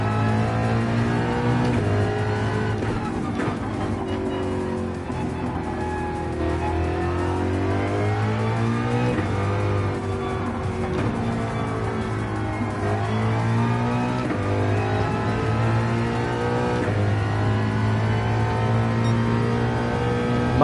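A Ford Mustang's engine revs continuously while driving in the racing game Gran Turismo 7, loud and close, with the pitch climbing and dropping through gear changes.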